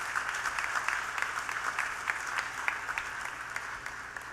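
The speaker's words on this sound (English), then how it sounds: "let us applaud this great moment." An audience at a college initiation ceremony for a new batch of B.Tech, M.Tech and MCA students applauds, giving fairly faint, distant and steady clapping in a large hall, with individual claps pattering through the wash.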